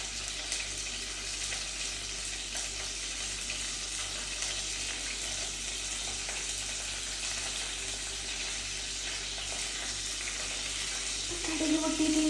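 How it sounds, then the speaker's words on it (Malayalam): Mustard seeds splutter in hot oil with a steady, fairly faint sizzle, faint crackles and pops throughout, and a brief clatter near the end. "കടുക് പൊട്ടിയിട്ടുണ്ട് ഗൈസ്."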